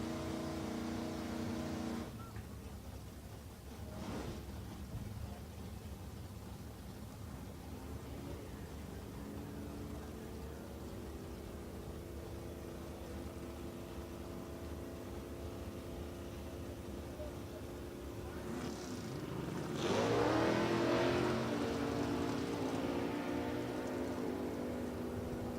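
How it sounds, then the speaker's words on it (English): Super Stock drag race cars, a factory Super Stock B Cobra Jet and a Challenger, at a National Trail event, with a distant engine roar that rises toward the end of the run and an announcer talking over it. "factory Super Stock B Cobra Jet there on the left-hand side, and Lynch's factory Super Stock K."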